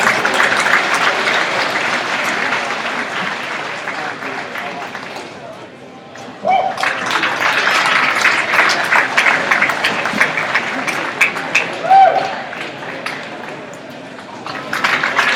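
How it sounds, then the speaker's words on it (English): A crowd at a livestock show arena claps steadily for about fifteen seconds, dipping briefly around the midpoint before swelling again, while a voice carries faintly underneath. "So give them a round of applause"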